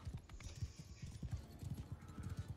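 Horse hooves clip-clop steadily in Mount and Blade II Bannerlord as an injured horse moves along, a quick regular beat of low thuds that stays close and fairly loud.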